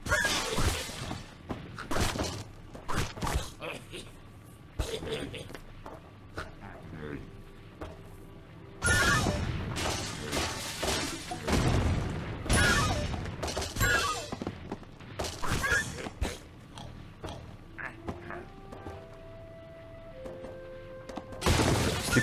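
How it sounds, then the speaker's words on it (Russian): Glass shatters in a chain reaction in the Angry Birds Seasons cherry blossom episode, several bursts of crashing, tinkling breakage and thuds in clusters over game sounds, with a voice talking at times. "Стекло само сломалось, а не от камня."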